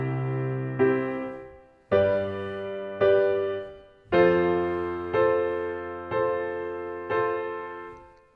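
Piano chords struck one after another at a slow, even pace, each ringing fully and blending into the next, with a brief dip in sustain between some chords.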